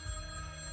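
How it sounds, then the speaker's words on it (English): A telephone with a bell-like ring sounds from behind a wooden door in a room, giving a steady, continuous ringing tone at moderate level with no voices. "This was when the phone rang."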